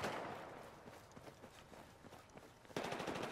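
Rapid automatic weapon fire in the Battlefield 4 shooter game, a dense stream of sharp shots that suddenly grows louder and fuller near the end, with no talking over it.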